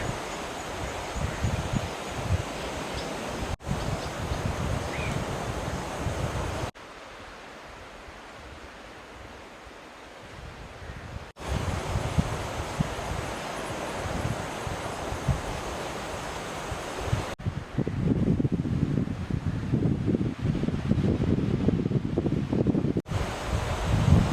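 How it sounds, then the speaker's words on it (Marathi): Strong evening wind buffets the microphone at a seashore campsite on a cold night, with surf rumbling underneath; the gusts roar in uneven waves, dropping briefly before rising louder again, no talk heard. "संध्याकाळच्या टायमात आहे ना वारा भरपूर सुटला बघा"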